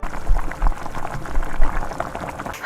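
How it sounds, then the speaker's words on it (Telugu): Oil is poured into a kadai with a close, bubbling, gurgling flow that rises and falls unevenly over a few seconds. "ఇప్పుడు కడాయిలోకి ఆయిల్ వేసుకోవాలి"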